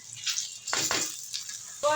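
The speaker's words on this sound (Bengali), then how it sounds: "চাল আর ডাল দিয়ে দেবো।" Rice and lentils tipped into a cooking pot of fried spices for soybean khichuri, giving two quick rattling pours close by, then a short clink near the end.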